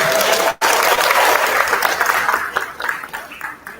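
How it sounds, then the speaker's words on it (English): An outdoor crowd at a charity walk and fun run kick-off event in Montgomery, Alabama claps and cheers loudly, a dense burst of applause that tapers off toward the end. "Y'all give a round of applause for Tamika Reed."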